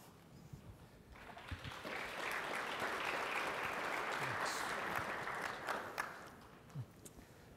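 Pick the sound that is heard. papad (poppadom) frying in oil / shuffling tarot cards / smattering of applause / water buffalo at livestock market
smattering of applause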